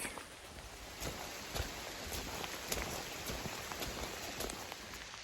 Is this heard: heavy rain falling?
yes